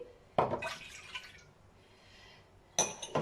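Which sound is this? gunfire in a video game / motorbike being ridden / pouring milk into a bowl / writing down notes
pouring milk into a bowl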